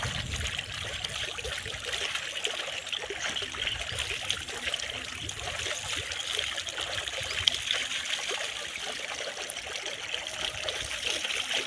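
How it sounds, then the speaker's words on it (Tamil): Water poured slowly and steadily during a village Pongal cattle celebration, a continuous close trickle and splash that runs unbroken for the whole stretch with no talking. "தண்ணி பொறுமையாக ஊற்றணும்."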